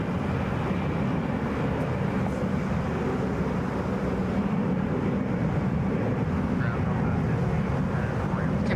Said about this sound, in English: Taking off now, Delta Flight 735. Headed for Anchorage on a Boeing 757.